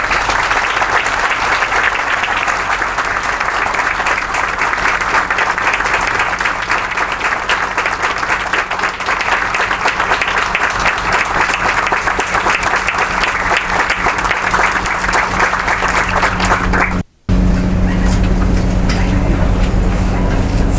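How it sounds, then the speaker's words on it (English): Loud, sustained applause from a crowd at a street renaming ceremony for an NYPD detective, continuous clapping that cuts out briefly near the end before resuming. "Please help me give them a round of applause."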